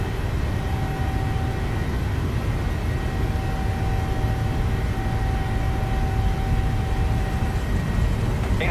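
PMDG 737-800 engines spooling up for takeoff in Microsoft Flight Simulator 2020, a steady, loud jet roar with a sustained whining tone that holds evenly throughout.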